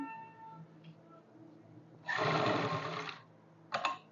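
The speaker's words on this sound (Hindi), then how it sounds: "तो ये इसकी लास्ट सिलाई होगी जो फिनिशिंग की होगी" A sewing machine runs a short burst of the final finishing seam on straight trousers, a loud whir of about a second followed by a brief second spurt, with quiet room tones between.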